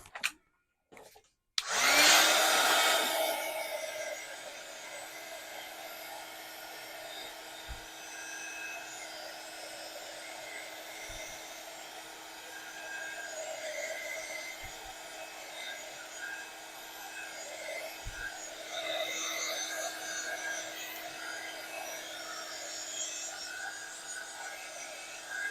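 After a few sharp clicks, a craft dryer whirs on and blows steadily over a textured craft project, a sustained close hum with a faint tonal whine lasting over twenty seconds.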